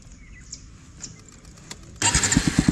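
A Bajaj Pulsar NS200 with an aftermarket exhaust fires up after a quiet stretch, then settles into a loud, close, throbbing idle burble.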